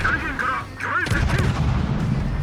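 Torpedo hits on a warship in World of Warships, game explosions booming in a heavy rumbling burst after a brief lull, loud and close.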